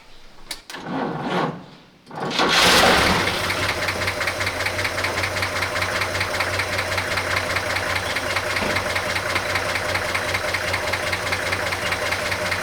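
A 1941 Chevy engine with unknown history cranks briefly, then catches and runs with a steady, loud, rough rhythmic knocking idle that continues to the end.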